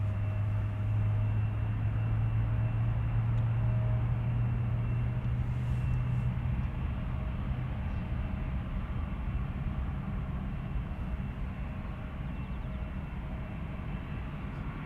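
A Delta Airlines Airbus A350-900 with Rolls-Royce Trent XWB engines, outbound to Atlanta at Schiphol Airport, gives a loud, steady jet roar with a low droning hum that holds throughout and eases slightly toward the end.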